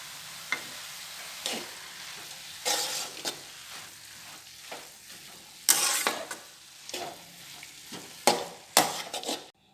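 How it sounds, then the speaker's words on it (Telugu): Beetroot sizzles gently in a pan as a spoon stirs and scrapes it in bursts, some louder clanks toward the end, close and without speech. "ఇంతే, సగం వేగింది బీట్రూట్."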